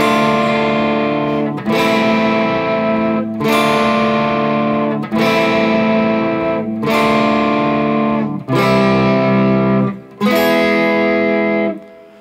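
Electric guitar with effects plays the verse of a song as a series of sustained, distorted chord strums, each ringing out before the next, loud and alone.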